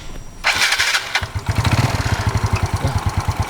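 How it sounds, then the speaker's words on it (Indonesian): A Yamaha Mio Sporty scooter with an upgraded CVT is started with the electric starter: a brief whir of cranking, then the engine catches and settles into a rapid, steady putter at close range. "Sekarang kita coba starter."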